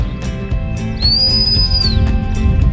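A hunting dog handler's whistle command: a single sustained, loud high-pitched blast lasting about a second, held steady then dropping at the end, over a busy outdoor background of low rumble and clatter.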